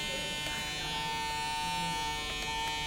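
Andis Recon hair clipper or trimmer running in a barbershop, a steady close electric buzz with a thin constant whine, quiet and unbroken throughout.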